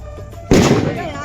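A Diwali firecracker goes off at home: one sudden, loud bang followed by a crackling, rumbling decay, with a quieter lead-in before the blast.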